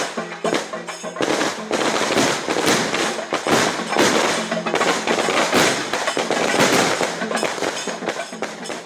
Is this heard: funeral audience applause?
no